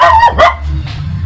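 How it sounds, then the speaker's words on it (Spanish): A dog barks loudly and close by, two sharp barks in quick succession, in a community dining hall, followed by a quieter low rumble. "no me ladres"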